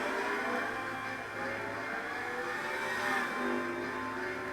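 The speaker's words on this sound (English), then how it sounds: "They've actually gone and recorded the sounds from these cars." A car engine in the video game Gran Turismo 5 revs and shifts through gears, rising and falling in pitch, loud and continuous with a synthetic, game-like quality.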